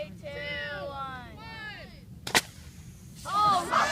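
Eighth-grade bottle rocket launching outdoors, a sharp sudden whoosh-pop in the middle, with excited voices talking and exclaiming before and after.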